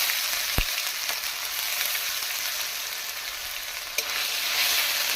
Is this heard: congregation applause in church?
no